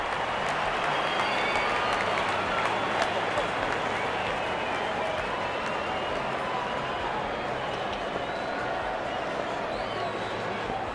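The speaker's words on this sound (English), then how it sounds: "The crowd is enjoying every bit of this action." A stadium crowd cheers and claps continuously through a cricket match in the video game RC 22, a dense, steady wash of applause with a commentator's voice running over it.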